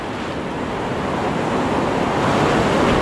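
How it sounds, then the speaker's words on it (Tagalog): Ocean waves break on a rocky shore in steady, loud rushing surf with wind noise, building slightly over a few seconds, with no voices. "hindi tayo makalapit masyado dun, kasi nababasag yung alon."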